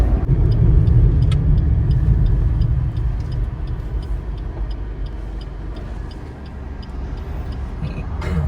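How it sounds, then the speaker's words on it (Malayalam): Alto K10 CNG manual hatchback on a performance test drive, its engine rumbling loud and steady inside the cabin, heaviest at first then easing slightly, with faint ticking throughout. "ഇനി നമുക്ക് ഓൾട്ടോയുടെ ആ ഒരു പെർഫോമൻസ് ഡ്രൈവ് ഒന്ന് ചെക്ക് ചെയ്ത് നോക്കാം എങ്ങനെയുണ്ട് എന്നുള്ളത്"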